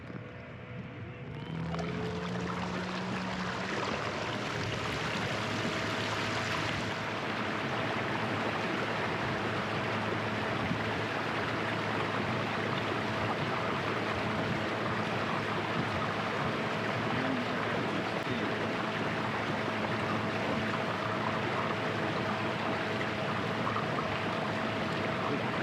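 NK300 electric kayak motor at full throttle on a fully rigged Hobie Pro Angler 14, a constant rushing drone of hull and water with a faint steady motor hum, sustained and even throughout.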